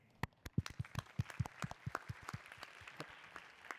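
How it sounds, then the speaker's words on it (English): Audience applause for presenters at the close of a clinical AI paper session: scattered, distinct claps from a modest crowd, fairly quiet, with no talk. "Let's give big applause to all presenters again."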